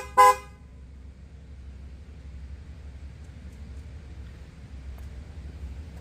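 Newly installed dual car horns on a Kia Forte give one short, sharp honk from about fifteen feet away, then fall silent over a low outdoor background rumble.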